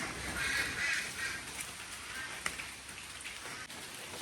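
Rain falls steadily in a broad hiss, while faint bird calls sound in the background.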